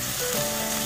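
Sizzling chicken in sauce with browned garlic is stirred in a hot pan, a dense, close, continuous frying hiss with no talking.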